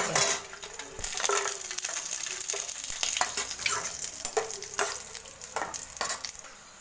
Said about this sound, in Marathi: हे पहा आपले मनोक चांगलं तळून झालेत